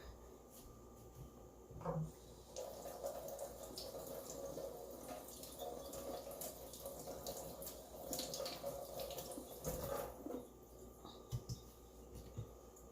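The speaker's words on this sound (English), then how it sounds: "I'm going to rinse off the cap, and I'm going to put it in the colander over here" A honey mushroom cap is rinsed under running tap water in a colander, a soft, steady stream with faint splashes and an occasional clatter, quiet and without speech.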